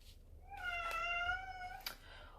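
A single loud, drawn-out meow from a cat indoors, set against a faint low background hum, with a soft click near the end.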